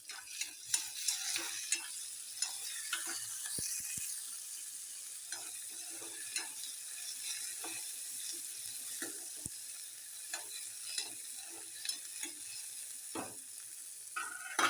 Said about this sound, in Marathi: त्यात टोमॅटो टाकूया कांदा जास्त नाही भाजायचा टोमॅटो बरोबर भाजू शकतो